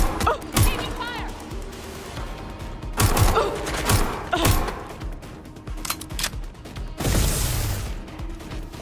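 Gunfire in the video game Watch Dogs Legion, several sharp shots and bursts scattered through a busy mix of game effects, with a player's voice talking over the action.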